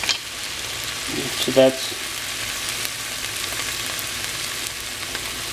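Onion, celery and green pepper for a Thanksgiving dish hit an oiled pan after chorizo, giving a steady close sizzle with a brief louder burst as they go in, while a voice speaks briefly.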